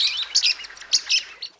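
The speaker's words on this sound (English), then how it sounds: "they produce a stream of shrill chirps" A pied kingfisher, a small bird with a large beak, gives a rapid stream of shrill, high chirps in quick clustered bursts, loud and close, with no voices.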